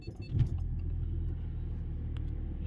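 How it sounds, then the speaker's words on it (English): A car engine turns over and catches, settling into a steady low idle rumble close by, with a brief clink of keys at the start. "I will start the car."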